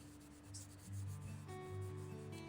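Acrylic paint being rubbed down across a surface by hand, a soft steady scuffing friction that swells slightly midway, close and alone with a faint low hum beneath.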